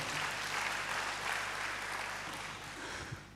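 A church congregation claps in praise during a sermon, a continuous wash of applause from many hands that stays fairly faint and even, with a low steady hum beneath it and no talking.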